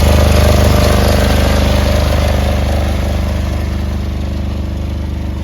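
A Ford YT16 lawn tractor engine runs loud and steady nearby with a rapid thumping putter, idling slightly low and gradually easing in volume, no voices.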